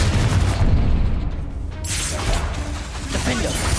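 A Confringo fire spell explodes in Hogwarts Legacy, a loud booming blast with crashing debris, followed by rumbling combat noise and clattering, with a voice calling out spells around it.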